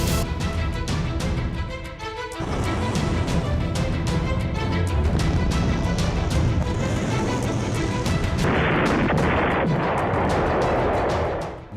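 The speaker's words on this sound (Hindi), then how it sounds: "तो 130 से ज्यादा रॉकेट की बौछार" A barrage of more than 130 rockets fired in a Hezbollah attack on Israel, heard as dense, continuous loud blasts and booming roar with no break.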